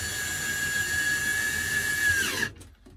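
Screws driven into the trim kit of a newly installed microwave/convection oven with a power screwdriver or drill, one steady high whine lasting over two seconds, then winding down and stopping, close and fairly loud.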